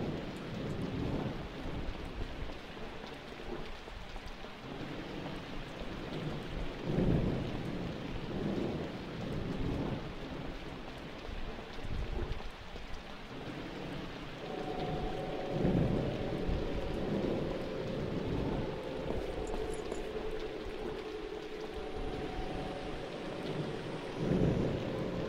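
Steady rain and rolling thunder from a thunderstorm in the horror video game White Day, with repeated low rumbles over constant rain noise and no talking.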